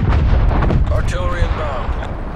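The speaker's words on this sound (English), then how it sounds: "Artillery targeting detected." Artillery fire in Call of Duty Black Ops Cold War during Hardpoint gameplay, loud continuous rumbling booms and blasts up close, with game voice announcements over the barrage.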